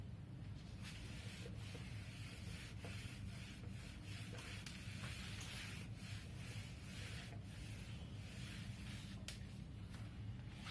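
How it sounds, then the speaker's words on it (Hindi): A board eraser scrubs writing off a classroom board in continuous, fast back-and-forth rubbing strokes, close and fairly soft, with no voices. "इसको मैं इरेज करती हूँ"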